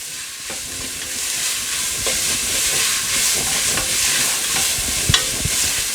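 Onions sautéing in a pan as the base of a meat sauce produce a loud, even hissing sizzle close by, with scattered faint clicks of stirring and one sharper knock near the end, and nobody talking.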